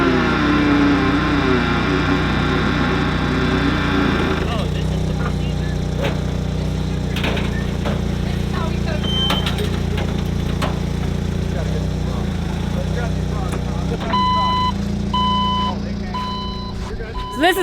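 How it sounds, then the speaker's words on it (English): A forklift engine runs steadily near a workshop while a vehicle is moved, and in the final few seconds a reverse alarm beeps in an even, repeating rhythm over the engine noise. "Kyle, get the forklift"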